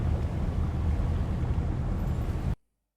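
A fishing boat engine runs at a held throttle in Fishing North Atlantic, a steady loud low drone mixed with wind and water rush that stops abruptly near the end.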